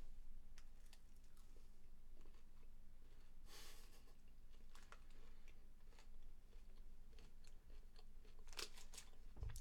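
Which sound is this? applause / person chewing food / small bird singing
person chewing food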